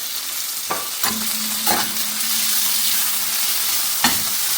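Beetroot thoran being stirred in a frying pan in a Kerala kitchen, a continuous close sizzle broken by several sharp scraping strokes of a spoon against the pan, with no voices.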